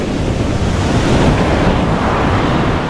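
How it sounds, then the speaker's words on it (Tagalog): Powerful ocean waves of the West Philippine Sea off Zambales crash and roar loudly and continuously, close by and buffeted by strong wind rumbling against the microphone, with no voices. "Lakas ng alon, no?"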